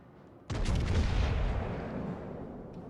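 A warship's heavy guns fire in the naval game World of Warships: Legends as one loud, close boom that rolls out into a long fading rumble.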